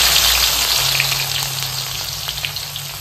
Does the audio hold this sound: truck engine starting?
no